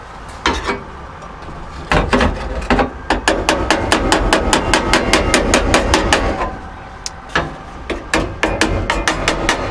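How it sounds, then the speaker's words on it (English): Sharp metallic hammer strikes against a dolly ring out while straightening sheet metal during welding, first in scattered blows, then in a fast, steady series, then in a few slower hits, close and loud. "I'm going to use a hammer and dolly, and I'm going to get this lined up a little bit better"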